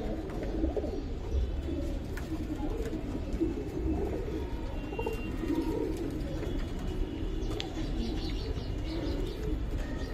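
Giribaz pigeons in a collection coo steadily and softly throughout, with overlapping low calls and faint chirps nearby.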